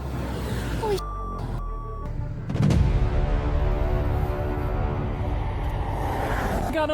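Reversing beeps from a truck carrying cars that is stuck on train tracks: two loud, steady electronic tones sound early on, then a heavy low rumble and sustained engine noise follow.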